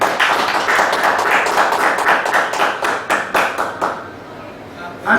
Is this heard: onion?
no